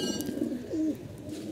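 Domestic pigeons coo nearby in a loft, with a few short, throaty rolling calls rising and falling over a quiet room hum.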